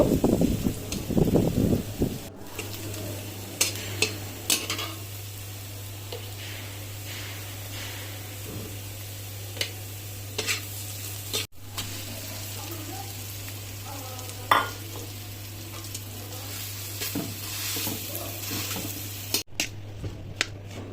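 Bombay chilli pickle fried in oil for tempered mashed potato, a steady loud sizzle throughout with occasional sharp pops and stirring clicks, opening with a brief burst of louder handling.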